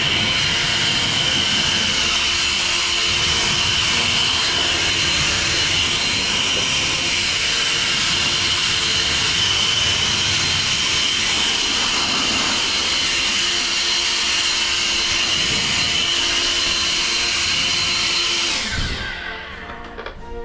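An EGO 650 CFM cordless leaf blower runs at full power, a loud, steady, close jet-like whine with a high tonal hum that holds for most of the stretch before spinning down near the end.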